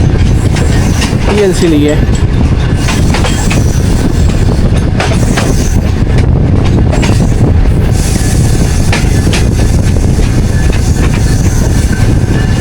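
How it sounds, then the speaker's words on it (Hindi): Passenger train on Pakistan's Main Line 1, the Green Line Express, pulling into Noor Junction station: steady loud rumble of rolling carriages with wheel clatter and a brief squeal near the start, while a voice talks over it. "तो 3:08 हो रहे हैं दोस्तों और नूर जंक्शन पहुंच गई है ट्रेन"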